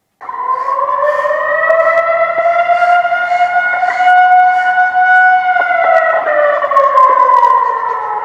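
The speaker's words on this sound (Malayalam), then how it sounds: "മോക്ഡ്രിലിന്റെ ഭാഗമായി പറവണ ജെ പി സ്കൂളിൽ ദുരിതാശ്വാസ അഭയ കേന്ദ്രത്തിലും സൈറൺ മുഴങ്ങി" A loud wailing civil defense siren sounds steadily during a mock drill at a school relief shelter, its tone holding level and then falling near the end, with no voices.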